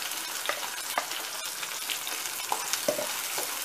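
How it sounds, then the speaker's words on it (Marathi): Pineapple paste sizzles in hot ghee in a pan, a continuous bright frying hiss punctuated by several sharp clicks and scrapes of a spoon stirring, close and alone without talk. "ते तूप तापलेलं आहे. हे मी याच्यात मिश्रण टाकणार आहे."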